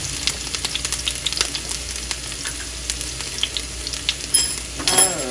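Onion and garlic sizzle steadily in a hot pan for coconut gnocchi, a continuous crackling fry with occasional stirring clatter and a few sharper spatters near the end.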